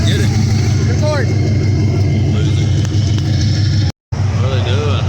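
A car revs hard at a car meet to break its tires loose, a loud steady engine roar with rising pitch sweeps, briefly cut off, and people talking over it nearby.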